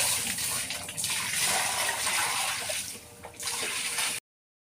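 Water being poured out and splashing steadily during morning cleaning at home, a loud continuous gushing that dips briefly near the end before stopping abruptly.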